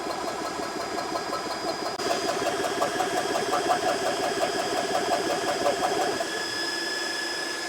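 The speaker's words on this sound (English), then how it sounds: "I'm going to set my stopwatch, and now it's going to fill" A budget mid-range PCP compressor runs steadily while filling its tank, a loud continuous mechanical drone with a rapid pulsing beat and a high whine that lifts slightly partway through, with no talk.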